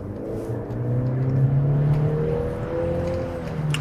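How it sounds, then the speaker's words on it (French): A Mercedes C-Class with a 1.5-litre four-cylinder turbo engine accelerates up a short slip road onto the motorway, heard from inside as a steady rising engine drone with road noise and a gradually climbing tone. "on accélère pour monter sur le petit bout d'autoroute"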